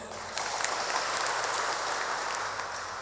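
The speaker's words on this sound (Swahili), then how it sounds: "Tumahurire makofi mega" Congregation clapping at a church service, a dense steady wash of applause from a crowd that holds at a fairly even level throughout, with no voices standing out.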